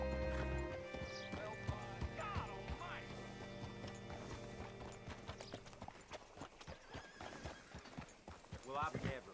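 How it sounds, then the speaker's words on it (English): In Red Dead Redemption 2, rhythmic hoofbeats clip-clop at a steady walk while a horse whinnies now and then, set against a constant game music drone and faint speech. "Hitch your horse up here"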